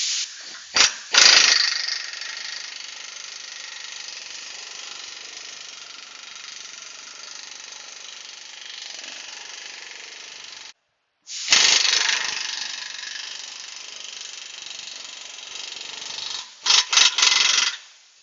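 Small impact gun on a 2005 Honda pressing a lower ball joint into its control arm: a long, loud buzzing whir that stops briefly, then resumes with a few short hammering bursts at the end, no talk.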